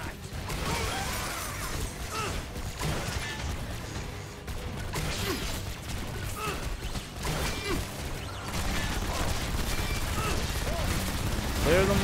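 Gunfire in the video game Shadow Warrior 2 in a fight with a huge army, dense and continuous with mechanical clatter throughout, mixed with game music and effects, and a voice talking over it.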